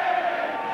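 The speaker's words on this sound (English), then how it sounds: "But the crowd are going to cheer him through these final couple of minutes." A boxing crowd cheers during the Shea Neary vs Darryl Tyson fight, a steady, massed roar of voices that holds a sustained droning tone throughout the brief moment.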